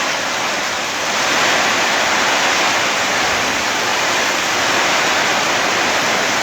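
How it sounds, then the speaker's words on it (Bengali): Heavy first rain of the year pours down in a loud, dense, unbroken hiss, with the wash of falling water filling everything and no voices. "ব্যাপক বৃষ্টি কিন্তু হচ্ছে।"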